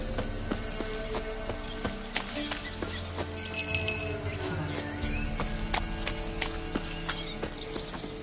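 Horse hooves clip-clopping steadily in The Witcher 3, a regular, fairly close walking beat over a soft outdoor ambience with birds, and a brief chime partway through.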